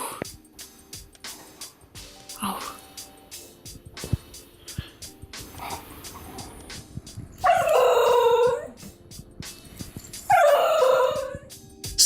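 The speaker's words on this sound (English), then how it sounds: "Instead of barking, the Basenji makes characteristic yodel-like sounds, but you can only hear them when the dog is excited." An excited Basenji dog lets out two loud, yodel-like howls in the second half, after scattered quieter sounds and background noise.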